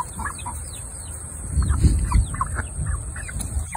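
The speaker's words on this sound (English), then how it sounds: "There's 18 chickens in here." About eighteen chickens in an enclosure cluck and murmur nearby in a scattered, overlapping chorus, with a low rustling underneath and a faint high-pitched hum.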